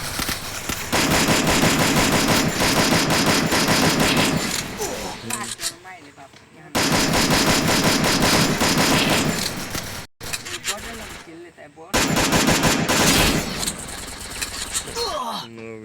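Gunfire in a shooting video game: loud, rapid crackling volleys fired in three long sustained bursts separated by short pauses.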